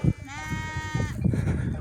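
A single close sheep bleat, wavering and sustained for under a second, rises out of quiet pasture ambience with a lamb near its mother, followed by faint low murmuring.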